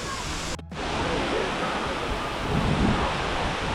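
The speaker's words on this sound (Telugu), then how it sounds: "వాటర్ ఫాల్స్ నుంచి వాటర్ అలా ఫ్రెష్ వాటర్ వచ్చి ఓషన్లో కలుస్తుంది" A Jamaican waterfall pours fresh water into the ocean, making a steady, loud broadband rush with a brief dropout near the start and no voices.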